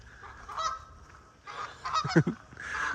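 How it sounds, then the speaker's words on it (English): A few loud goose honks ring out close by in short bursts along the Chattahoochee River in spring, separated by brief quiet gaps. "They're talking, the geese."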